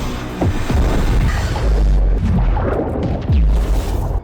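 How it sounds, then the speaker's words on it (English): A huge explosion rumbles with deep booming bursts and roaring low-end blasts, several heavy thuds rolling over a dense, noisy wash of debris and rumble, loud and sustained. "With a huge explosion,"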